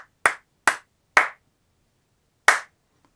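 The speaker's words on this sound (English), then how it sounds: "and I can now see that when I clap" Four sharp, dry hand claps are made close to a recording microphone, three in quick succession and a fourth after a pause, each decaying quickly into silence.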